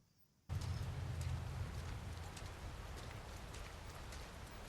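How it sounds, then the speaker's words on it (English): Rain begins abruptly and keeps falling steadily, a dense hiss of drops pattering on a surface close by, with no voices. "It's like the sound of the rain"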